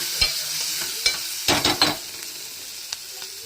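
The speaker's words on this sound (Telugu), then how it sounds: "ఇదిగోండి ఉల్లిపాయలు అయితే ఏగుతున్నాయి." Onions frying in oil, a steady close sizzle punctuated by sharp scraping stirs, with a quick cluster of strokes mid-way and fainter taps after.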